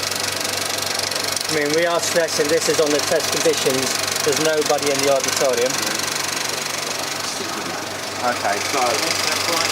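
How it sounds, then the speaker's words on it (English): A film projector runs in a cinema projection room with a continuous mechanical whir and rattle, while people talk nearby over the machine. "These projectors, as I was last in here, are a lot quieter."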